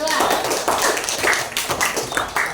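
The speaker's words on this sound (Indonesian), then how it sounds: "Aplaus untuk kelompok" A class gives a presentation group dense, loud applause, with sharp claps close by throughout, and voices are mixed in.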